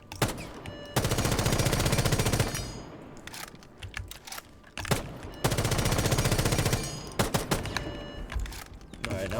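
Automatic rifle fire in Rainbow Six Siege during recoil practice, long loud sustained bursts with short single shots and gaps between them, close and dominant.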